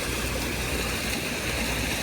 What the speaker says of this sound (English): Little water feature right here.